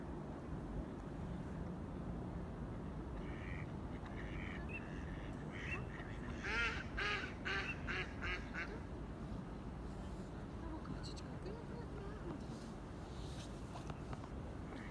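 Mallard ducks quack in a loose cluster near the middle of the stretch among swans on a wintry river, moderately close over a steady wash of wind and water, with faint low talk underneath.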